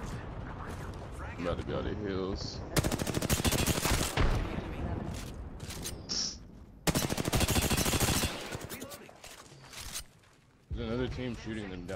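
Rapid automatic gunfire in a battle royale shooter game, loud bursts of shots in two long stretches with brief pauses between them, mixed with game effects and a person talking over it.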